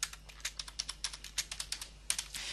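Quiet, rapid keystrokes on a computer keyboard as a phone number is entered into a form field, about a dozen irregular clicks in quick succession with a short pause near the end, with no voices.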